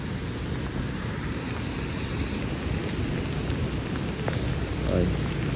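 Steady rain pours at a beach in Nha Trang on a rainy day, a dense, even hiss that stays loud and unbroken throughout, with a faint low swell near the end.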